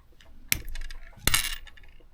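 Pliers or cutters snipping pearls off old earrings: two sharp, close clicks roughly three quarters of a second apart, each followed by a brief scraping rattle.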